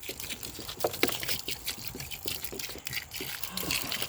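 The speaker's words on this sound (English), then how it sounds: "I'm going to water this here." Garden plants watered by hand, a close, uneven pour and splash of water with scattered drips and gushes over a few seconds.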